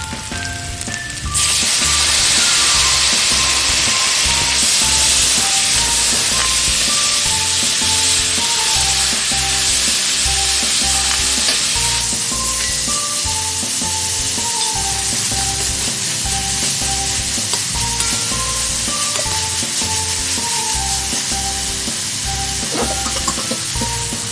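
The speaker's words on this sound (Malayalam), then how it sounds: "ഇനി ഇതിലേക്ക് 2 തക്കാളി ഞാൻ അരിഞ്ഞു വെച്ചിട്ടുണ്ട്, അത് ഇതിലേക്ക് ചേർക്കാം." Chopped tomatoes fry in a pan while an egg curry is cooked. A loud, steady sizzle runs throughout, with crackles and stirring scrapes on top and no voice.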